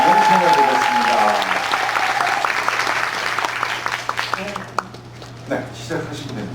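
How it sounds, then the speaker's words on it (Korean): An audience at a lecture claps to welcome the speaker, steady applause that starts alongside a voice and tapers off over several seconds into a few scattered claps. "여러분 박수로 우리 이진아 선생님의 강연을 청해보겠습니다."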